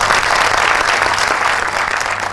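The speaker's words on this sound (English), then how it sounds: "So let's give them a big hand." Audience in a business gathering clapping together, a dense, loud and steady burst of applause with no break and no speech over it.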